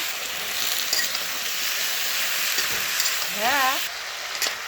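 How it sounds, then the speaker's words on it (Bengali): Spice masala with turmeric powder sautéing in a pan, a continuous close sizzle with occasional stirring scrapes and a brief high whistle-like tone near the end. "হলুদ গুঁড়ো, ভালো করে মশলাটা কষিয়ে নেব।"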